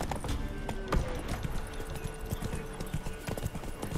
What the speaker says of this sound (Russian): Красивые кони.